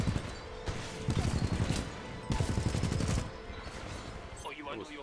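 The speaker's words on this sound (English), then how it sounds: "I love this machine gun" Heavy machine gun fire in the video game Titanfall 2, two loud sustained bursts separated by a short pause, with game sound continuing afterwards.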